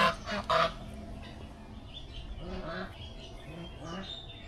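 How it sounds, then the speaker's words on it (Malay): A couple of loud goose honks up close at the start, then quieter honking and squawks from geese and ducks in the background, at a garden in Cameron Highlands, Malaysia. "Tu ada angsa kat bawah."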